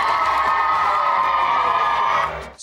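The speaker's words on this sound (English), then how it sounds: "They can cheer if you want them to." Schoolchildren cheer together in a loud, sustained crowd of high shouts and whoops that holds steady, then drops away at the end.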